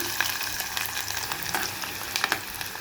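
Steady, close sizzling and crackling of onions frying in hot oil, with a few sharper pops and stirring scrapes throughout, no voices.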